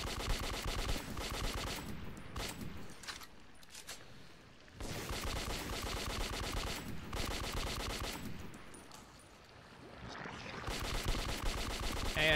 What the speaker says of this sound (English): the shotgun actually works best on destroying the nests